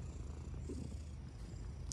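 A male pet cat purring steadily up close, a continuous low rumbling throb with no voices, lasting the full two seconds.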